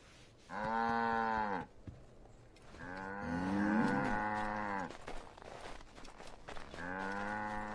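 A cow in the video game Assassin's Creed III moos three times, long sustained lowing calls spaced a couple of seconds apart over soft background game ambience and faint footsteps.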